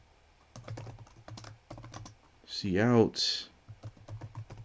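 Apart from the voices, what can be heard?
typing on a computer keyboard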